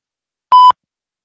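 A voicemail system's recording beep sounds once, a single clean, loud electronic tone lasting about a fifth of a second, with silence on either side.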